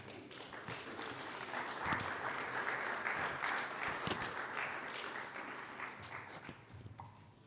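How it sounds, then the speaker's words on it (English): A round of applause for a book reviewer, swelling to a full, steady clatter of many hands that holds for several seconds before thinning out toward the end. "Please, can we give him a better round of applause?"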